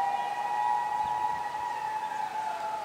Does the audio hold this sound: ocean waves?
no